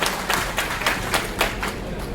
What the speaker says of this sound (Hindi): जोरदार तालियां बजाएं अध्यक्ष जी के लिए।